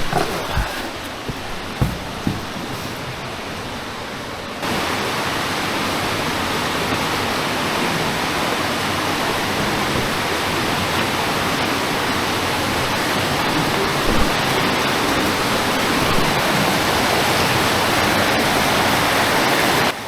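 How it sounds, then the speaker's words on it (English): Water pours out of a rock opening inside a cave, a steady broadband rush that grows louder after the first few seconds and then holds constant, with no talking over it. "This is one spot in the cave where we know water comes out"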